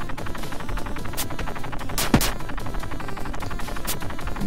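Enemies fire guns in the Tiny Barbarian DX video game, quick repeated shots in a rapid bursty rhythm over steady game background sound.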